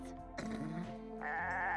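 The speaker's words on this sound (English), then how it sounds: "there's a goat on my bed. The goat! We have a goat!" A cartoon goat bleats in a long, wavering call, loud and close, with a higher sustained tone near the end and no talk over it.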